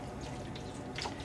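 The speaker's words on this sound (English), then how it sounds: "So I think I'm going to start pouring from the red one." Dye-laden water pours from a measuring cup onto yarn during home dyeing, a soft continuous trickle and splash that swells briefly near the end, with no talking.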